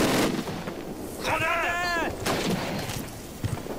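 A grenade goes off in a Call of Duty match, a sharp blast among game gunfire and effects with a brief tonal chirp in the middle, fairly loud.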